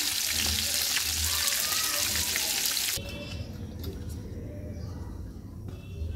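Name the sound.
snakehead fish frying in hot oil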